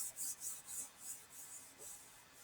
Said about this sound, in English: begin to rub your palms together